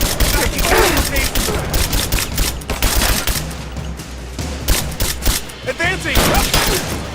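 Rapid gunfire in the video game Rise of the Tomb Raider, dense overlapping shots and bursts at close range, loud and continuous with shouted combat voices mixed in.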